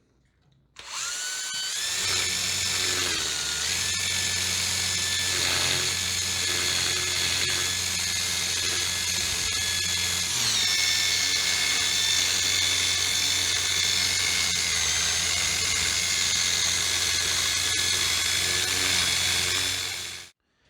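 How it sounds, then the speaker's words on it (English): A rotary sanding tool with a Sandiflex abrasive smooths a juniper root dish on a wood lathe, a steady loud whirring drone that runs continuously for about eighteen seconds, then cuts off. "we're just gonna kind of smooth this up a little bit with the Sandiflex"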